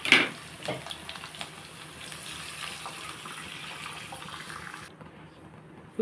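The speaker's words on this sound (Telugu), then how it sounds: "మనం ఇప్పుడు వాటర్ వేసేసుకుందాం" Water pours steadily into a pan of ragi upma with coriander, a continuous close splashing rush for about five seconds that then cuts off abruptly.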